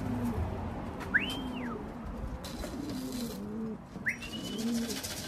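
A blue pied racing pigeon coos in low, soft, repeated throaty phrases, close and fairly quiet, with a couple of thin whistles rising briefly over it.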